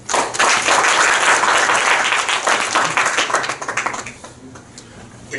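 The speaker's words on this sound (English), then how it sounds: "shall we have a good applause to welcome Mr." Audience at a Rotary Club meeting applauds to welcome a speaker, a loud dense burst of clapping that holds strong, then thins and fades to quiet.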